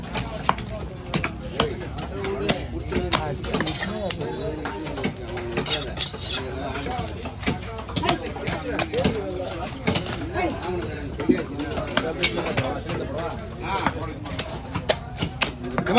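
Knife chopping through kal koduva fish at Kasimedu fish market, with repeated cutting knocks in a steady, busy rhythm under continuous market chatter and voices.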